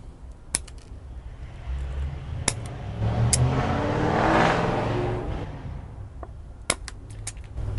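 A car accelerates away outdoors. Its engine swells to a peak midway and then fades, while sharp, close clicks sound now and then through it.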